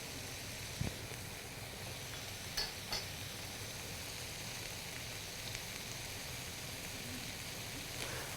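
Stuffed pork chops sear in a pan with a faint, steady sizzle and hiss and a few soft clicks, with no voices.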